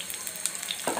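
Cauliflower pakoras frying in oil give a brief, steady close hiss and bubbling sizzle with a slight swell at the end.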